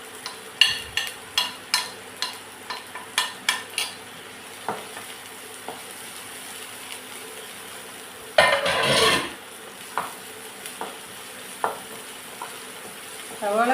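Onions and curry leaves sauté in a pan, a soft steady sizzle broken by quick rhythmic scrapes of a spoon stirring, then a louder burst of hissing before the stirring resumes.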